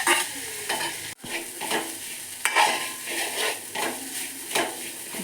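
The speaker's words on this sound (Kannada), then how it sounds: "ಸ್ವಲ್ಪ ಫ್ರೈ ಆಗಲಿ." Onion, curry leaves and grated coconut frying in a pan for Mangalorean chicken sukka, a steady close sizzle broken by repeated scraping stirs of a spoon against the pan, with no voices.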